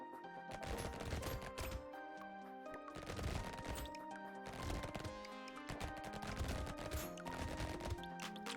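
Rapid SMG gunfire in Brotato sounds as dense, continuous bursts of crackling shots layered with crunchy impact hits and tonal game effects, loud and relentless throughout.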